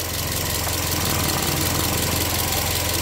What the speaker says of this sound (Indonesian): Mesinnya halus, ya, mesinnya halus, nyaris tak bersuara.